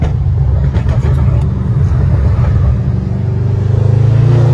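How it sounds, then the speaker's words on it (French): Audi RS6 C8 Stage 2 with a Milltek exhaust, its engine rumbling loud and close with revs and scattered crackling pops throughout. "il faut titiller l'accélérateur. Et ça craque. C'est une mitraillette."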